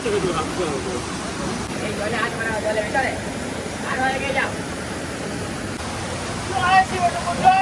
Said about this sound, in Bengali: জলের স্রোতটা দেখো জলের স্রোতটা